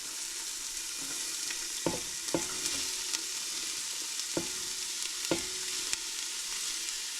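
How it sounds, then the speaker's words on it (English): Soft, steady sizzle of onions frying in oil, punctuated by a few sharp clinks and scrapes of a utensil against the pan, close by. "So we're going to start with our onions. Get that nice little sizzle."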